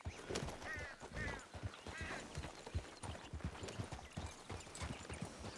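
Horse hooves clip-clop in a steady, uneven rhythm in the RedM roleplay game, close and continuous, with faint duck-like quacks and honks mixed in.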